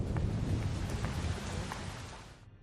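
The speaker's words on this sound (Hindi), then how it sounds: "आ जाओ, बारिश आने वाली है," Steady heavy rain with rumbling thunder in a Hindi-dubbed action thriller film scene, a dense continuous wash that stays loud before easing off and cutting out near the end.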